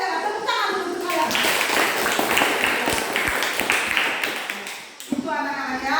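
A classroom of children applauding during an elementary science lesson on plants, with dense, sustained clapping from about one to five seconds between brief bits of a teacher's speech at the start and end.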